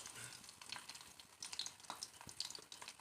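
Garlic dropped into three spoons of hot oil, crackling and spitting in quiet, irregular bursts of sizzle, close but soft.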